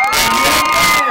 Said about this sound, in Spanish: que se escuche más fuerte el aplauso para Chiqui